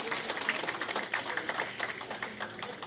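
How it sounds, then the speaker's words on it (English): Applause from an audience at an elders' award ceremony, a steady wash of many hands clapping at moderate distance, fairly faint, with a few sharper individual claps standing out and no speech over it. "y'all give him a round of applause"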